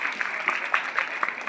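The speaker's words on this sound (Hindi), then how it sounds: "जोरदार तालियां।" An audience at a school cultural competition applauds loudly to welcome guests onto the stage, a dense, crackling burst of clapping from a crowd that holds steady through the short moment.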